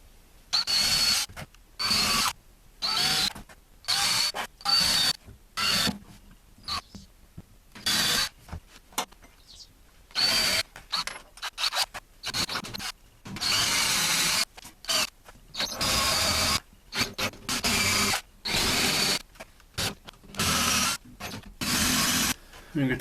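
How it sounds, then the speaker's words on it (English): Repeated bursts of a drill grinding and rasping through butcher block wood for a countertop, short runs separated by brief pauses, close and loud. "now I can drill a hole"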